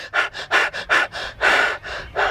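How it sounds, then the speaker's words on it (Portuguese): A person panting hard on purpose to demonstrate heavy breathing, about ten quick, loud, close breaths in a steady rhythm with no talk. "Se eu ficar ofegante"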